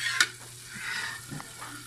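Butter sizzles in a frying pan while making honey garlic chicken, a soft continuous frying hiss with a sharp clink of stirring near the start and light scraping through the rest, no voices.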